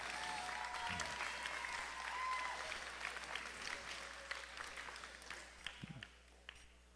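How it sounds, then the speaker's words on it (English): Audience applause at a FIRST robotics district event in Tomball, Texas: steady, dense clapping across a large hall, fading and thinning toward the end with a few scattered claps. "let's give them a round of applause"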